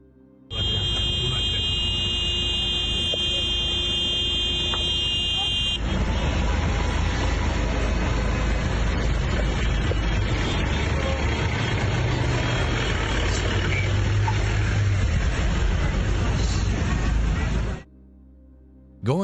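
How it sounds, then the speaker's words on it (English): Vehicle horns blare in a long, continuous, loud blast on a safari road where tourists harass elephants, with engine noise running underneath. "These wildlife observers were spotted honking their horns and harassing elephants in order to move them away from the road."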